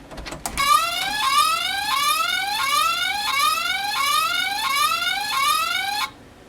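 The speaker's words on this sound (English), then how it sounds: "If the door is opened, it releases the button and sounds the alarm." A security alarm, set off when a door sensor button is released, sounds as a loud repeating rising electronic whoop, about ten cycles, close and alone, then cuts off abruptly.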